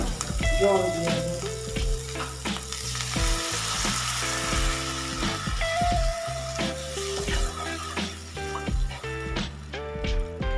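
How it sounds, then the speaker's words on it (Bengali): Water poured into spices frying in a pan for a light pabda fish curry, a continuous near sizzle and bubbling with utensil clinks and stirring, no voices. "এবার আমি একটু জল দিয়ে দেবো"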